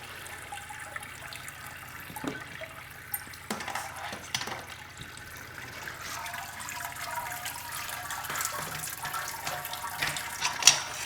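Water runs steadily into a Brewzilla all-in-one homebrewing system, a continuous splashing rush with a few clunks and bumps along the way, close by and without talk.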